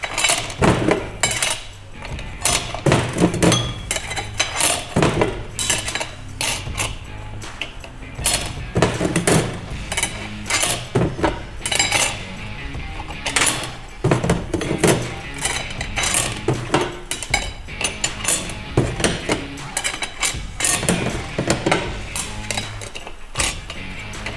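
Steel clutch plates for a 68RFE automatic transmission are stacked one after another, giving repeated sharp metallic clinks and clatters in an irregular steady rhythm, close and clear with no talking.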